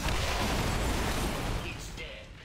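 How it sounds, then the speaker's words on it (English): An enemy exploding in the XCOM 2 video game, a loud, dense rumbling blast that fills the span and tails off slightly toward the end. "Moving far enough away to not be affected by its explosion."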